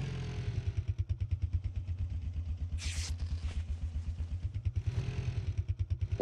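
Motorcycle engine from PUBG Mobile running close and loud with a rapid pulsing chug that dips and swells, with a short hiss burst midway.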